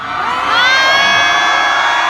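A concert crowd at a hip-hop show roars, whoops and screams in one loud sustained burst that swells after a moment and holds.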